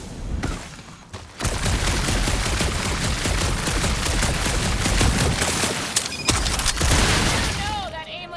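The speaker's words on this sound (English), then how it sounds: "You know that aimless shooting isn't gonna scare the monsters away, right?" Dense, sustained gunfire from the Guardians of the Galaxy video game pounds on loudly for several seconds, with booming impacts, a brief pause near the end and voices mixed into the soundtrack.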